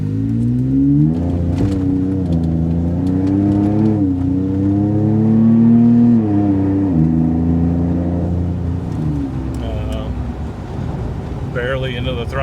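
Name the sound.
Ford Tremor truck accelerating on the road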